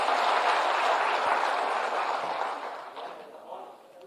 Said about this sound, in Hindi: तालियों से स्वागत करें सर।